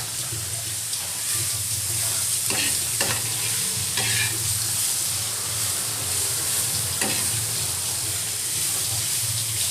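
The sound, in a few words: onions frying in oil on low heat, being stirred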